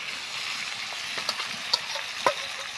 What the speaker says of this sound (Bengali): এবার আমরা সিদ্ধ করা আলু টমেটো দিয়ে দিয়ে সুন্দর করে আমরা কষে নেব